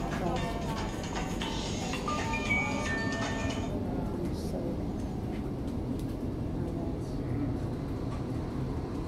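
Steady rumble and rattle inside a moving red train, continuous and fairly loud throughout, with a brighter whining layer for the first few seconds and people talking faintly in the carriage.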